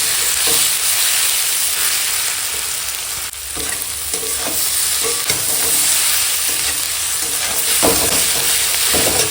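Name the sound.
stir-frying spiced mixture in a pan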